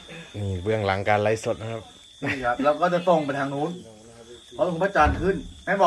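Crickets chirp at night on a house rooftop, a constant thin trill running faintly beneath someone talking throughout.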